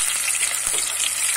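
Shrimp fry in hot oil, giving a close, steady, crackling sizzle with no one speaking.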